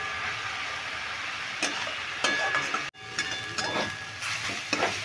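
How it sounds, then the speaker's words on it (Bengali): Pea greens with onion shoots are stir-fried in a wok, with a steady close sizzle and repeated scraping strokes of a spatula against the pan. "এইভাবে আমি এখন 3 থেকে 4 মিনিট নেড়ে চেড়ে ভেজে নেব।"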